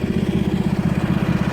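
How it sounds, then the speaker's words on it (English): A campervan engine idles close by, a loud, steady low throb with a quick regular pulse and no other sounds. "Campervan's running"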